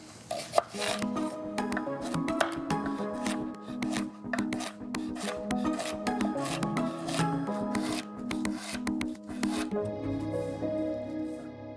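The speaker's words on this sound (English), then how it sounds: "I'm going to just kind of cut down everything to around the same size" A knife chops vegetables into roughly 3/4 inch pieces on a board, a fast, even run of close, crisp strikes that continues for about ten seconds over soft background music.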